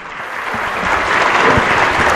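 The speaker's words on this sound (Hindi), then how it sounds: "अभी तालियां हो जानी चाहिए उनके लिए।" Sustained crowd clapping at a school annual function, a steady wash of applause for young children that holds loud and even throughout.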